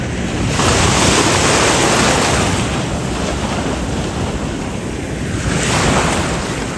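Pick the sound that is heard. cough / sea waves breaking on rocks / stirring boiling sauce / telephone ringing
sea waves breaking on rocks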